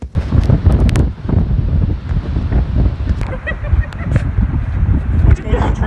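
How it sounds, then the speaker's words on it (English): Strong wind on the Atlantic coast roars and buffets the microphone in loud, rumbling gusts, with faint surf beneath and muffled voices partly buried in the noise. "It's a bit windy."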